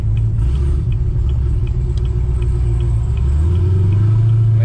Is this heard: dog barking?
no